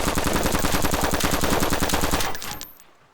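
An automatic rifle in the video game DayZ fires full auto in one rapid, loud, unbroken burst of evenly spaced shots for over two seconds, then stops and leaves a short decaying echo with a few faint impacts.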